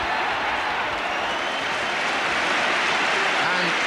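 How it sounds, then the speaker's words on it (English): Applause and crowd noise from a 1987-88 Everton football match at the stadium, a continuous dense wash of distant clapping and roar with no break. "And applause ringing round the ground for the way Everton are playing."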